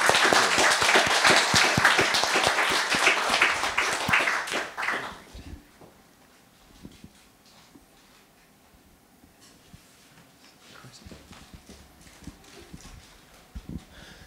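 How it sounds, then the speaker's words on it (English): After a talk on prediction markets and financial markets, the audience delivers a dense burst of applause that lasts about five seconds, then quickly dies away into a quiet room with only scattered faint claps and shuffles. "Let's have a round of applause for this."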